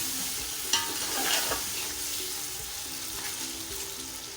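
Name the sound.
boiled chicken frying in masala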